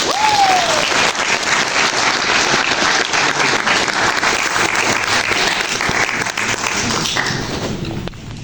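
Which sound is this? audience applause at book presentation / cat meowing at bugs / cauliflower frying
audience applause at book presentation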